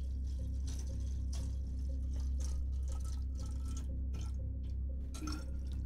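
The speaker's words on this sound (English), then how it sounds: "Sorry, I'm pouring some water." Water is poured, with a steady low trickle and small dripping splashes close by over a faint background hum, and no talking.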